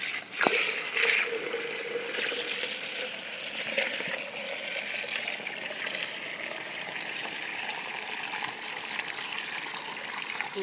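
Water gushing steadily from a small container onto garden plants outdoors, a continuous close splashing flow with no talk.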